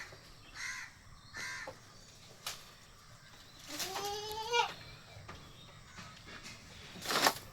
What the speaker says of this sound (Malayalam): വളർത്താൻ പറ്റിയ നല്ലൊരു മലബാരി ആട് കേട്ടോ.